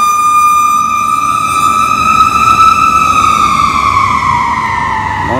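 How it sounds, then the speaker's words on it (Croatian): A fire engine siren wails loud and close on a city street, its tone sliding slowly up and down over a deep truck engine rumble, passing without any talk. "Znači, vatrogasci, policija, po ceo dan samo sviraju i prolaze"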